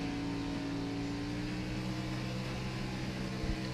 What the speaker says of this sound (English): Revs it up here. He's getting ready to go,